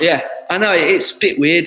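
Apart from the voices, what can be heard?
No distinct noise like a dog, phone or traffic.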